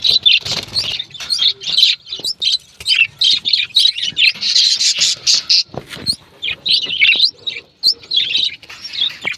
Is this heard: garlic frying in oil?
no